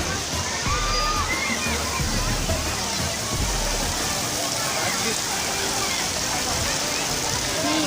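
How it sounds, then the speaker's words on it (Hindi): Water splashing and churning across the pools of a water park in Dubai, a dense, steady rush that stays close and loud for the whole stretch without letting up. "मैं आप लोगों को पूरा वाटर पार्क दिखाऊं"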